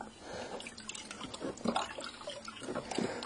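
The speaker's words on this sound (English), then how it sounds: "I just slightly wet them here in clean water" Peat pots being dipped and wetted in clean water, soft irregular splashes and drips up close, a few distinct sloshing bursts at intervals.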